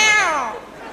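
A single cat's meow, close and fairly loud, falling in pitch and fading over about a second.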